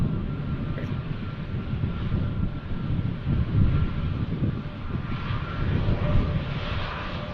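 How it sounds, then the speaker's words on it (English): A Turkish Airlines Airbus A321neo at Manchester Airport produces a steady, moderately loud jet roar with a broad rushing quality. Wind buffets the microphone throughout. "Turkish A321 Neo."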